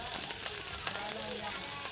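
Onion sizzles in hot oil with a mustard seed tempering, giving a soft, steady crackling hiss through the short moment, fairly faint and close.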